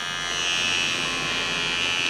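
A repaired Kemei electric shaver running continuously with a steady, close, high-pitched buzzing hum, alone and without talk.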